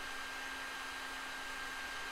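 A bee vacuum runs while collecting a swarm, giving a faint, steady motor whine with a constant tonal hum throughout and no speech.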